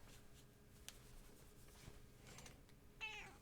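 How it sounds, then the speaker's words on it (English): A cat gives a short, faint meow near the end, after quiet shuffling and soft rustling in a still room. "Some parting meows?"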